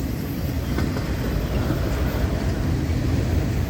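A freight train hauling auto racks rolls past steadily at Peavy Grade in Palm Coast, a loud continuous rumble and rattle of wagons with no break.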